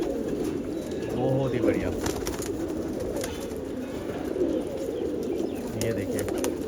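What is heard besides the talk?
pigeons cooing, including a Zardband pigeon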